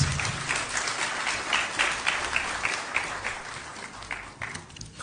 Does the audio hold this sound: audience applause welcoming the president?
yes